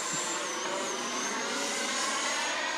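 E-flite Timber RC plane converted to electric ducted fan jet power makes a speed run past, a continuous high-pitched whine with a slowly wavering tone, fairly steady in loudness throughout.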